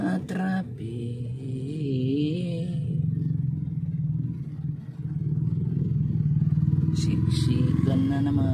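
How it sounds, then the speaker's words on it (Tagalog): Heavy traffic on a crowded road crossing toward Naga City, with cars and motorcycles packed close: a continuous low engine rumble and clatter from nearby vehicles, with someone talking over it. "Siksikan na naman ang mga sasakyan, pati ang mga motor"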